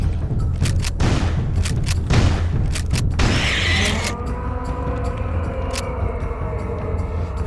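Shotgun blasts in Turok: Dinosaur Hunter, several loud booming shots fired in quick succession, then a mechanical reload clatter followed by a quieter hum of the game's ambience.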